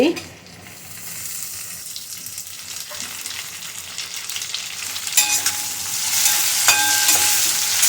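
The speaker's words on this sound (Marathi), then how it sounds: "मी टोमॅटो चांगले लावून परतून घ्यायचं" Two or three tomatoes sautéing with tamarind in a pan for tomato chutney; a loud, steady sizzle that builds over time, with occasional stirring scrapes and a faint tone near the end.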